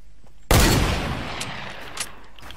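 A burst of gunfire from the video game Fortnite, one loud close blast that rings out and fades over about two seconds, with a few faint later cracks.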